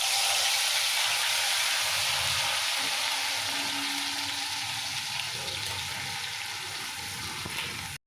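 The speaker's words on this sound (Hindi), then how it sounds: "अभी वो पेस्ट को तेल में डालना है" Masala paste for chicken masala hits hot oil and fries with a loud, dense, continuous sizzle close by, easing slightly over several seconds before cutting off abruptly.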